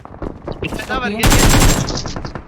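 A rapid burst of automatic gunfire from the mobile battle-royale game PUBG Mobile rattles loudly and close, with a person's voice and a synthetic game tone just before the shots.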